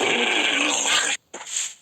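A loud, close dog growl in a video game rumbles for about a second, cuts off briefly, then returns as a shorter snarl.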